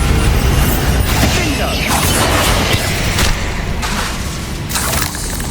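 Bombarda blasting spell in Hogwarts Legacy going off as a series of booming, crashing bursts with debris-like rumble, loud and close, repeating a few times in quick succession.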